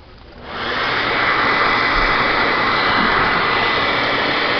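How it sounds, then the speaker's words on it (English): Hair dryer blowing steadily into a solar hot air window collector, a loud continuous broadband whoosh that starts up within the first half second and then holds constant without a break. "I have finally a dryer here that I think will not put out all kinds of heat."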